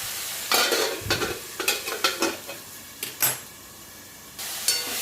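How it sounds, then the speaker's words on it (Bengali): Tomatoes being stirred with a spatula in a cooking pan, a run of sharp scraping, clanking strokes in quick irregular bursts over a low sizzle, close and loud. "এখন আমি খুন্তি দিয়ে এটাকে ঘেটে ঘেটে দেবো"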